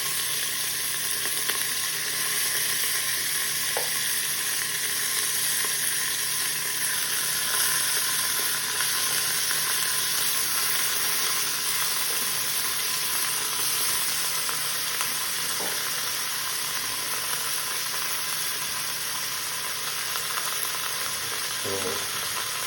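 Oxtail meat frying in a pot, a steady bright sizzle that holds for a long stretch with a few faint clinks, with no talking.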